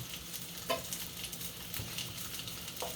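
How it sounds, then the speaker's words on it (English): A tablespoon of butter melts and sizzles in a frying pan, a soft steady crackle with a few small pops, faint and close, with no talking. "So I'm going to start off with like a tablespoon of butter. Like I said, I'm just going to let this melt."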